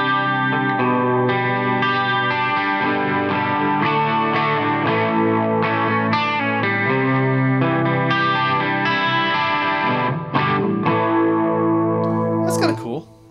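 Electric guitar played through a Nembrini MP1 Pro programmable tube amplifier on a factory preset, a dense, continuous distorted chorus-laden riff with sustained chords and notes, loud and steady before cutting off near the end.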